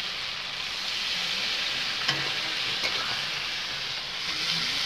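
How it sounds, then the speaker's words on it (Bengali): Water poured into frying chicken curry meat, a sharp, steady steam-laden sizzle filling the pan up close, with a couple of faint knocks of stirring. "এখন আমি পরিমাণ মতন জল দিয়ে দেব।"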